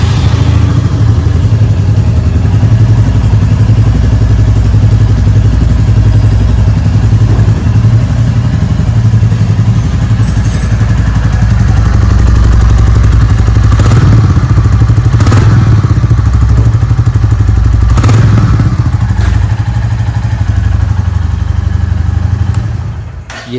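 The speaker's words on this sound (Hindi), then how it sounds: "साउंड सुन लो इस बाइक का कैसा है" A Royal Enfield Classic 350 Gun Grey motorcycle idles steadily and loudly close by, its deep single-cylinder thump unbroken throughout, with a few light clatters and knocks on top and no voices.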